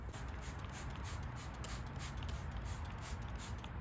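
Iron remover sprayed generously onto faded exterior car trim, a steady hiss of continuous spraying with a faint rustle, close and fairly quiet, no talking.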